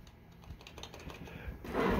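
Keys pressed on an HP desktop computer keyboard, a run of quick, light clicks close up over a steady fan hum, ending in a louder burst of noise.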